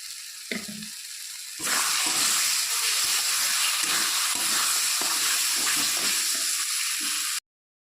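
Spice masala with chopped tomato, salt and a little sugar being sautéed and stirred in a pan for a fish-head dish. After a brief quiet start, a loud, continuous frying hiss and scraping of the spoon carry on steadily, then cut off abruptly.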